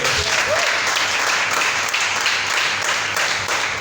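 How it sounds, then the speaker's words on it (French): Church congregation clapping loudly and steadily in praise during a sermon on Christian vices, a dense, continuous wash of many hands for about four seconds with faint voices mixed in. "Est-ce qu'on peut applaudir le Seigneur?"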